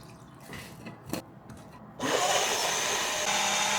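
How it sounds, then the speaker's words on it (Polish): Alpro chocolate milk and water poured into a smoothie blender jug with banana and pistachio: a few soft knocks and rubs, then a steady, close gushing pour that runs to the end with no talk. "Zalewam mlekiem w połowie Alpro czekoladowe i w połowie wodą."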